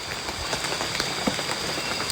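Rain falls steadily outdoors at night, a continuous hiss of drops hitting surfaces with a few sharper close patters, fairly loud and with no voices over it.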